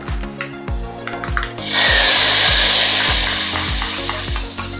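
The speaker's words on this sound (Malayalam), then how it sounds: "ഇനി നമ്മുടെ താളിപ്പ് നമ്മുടെ കറിയിലേക്ക് നമുക്ക് ചേർത്ത് കൊടുക്കാം." Hot tempering is poured into a pot of Guruvayur-style rasa kalan curry, setting off a sudden loud, hissing sizzle that stays strong and slowly eases after an opening stretch of rhythmic background beats.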